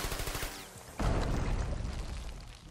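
Gunfire in the video game Trials of the Blood Dragon, shooting tumors: rapid, dense bursts of shots followed by a heavy impact, loud and continuous over a busy game soundtrack.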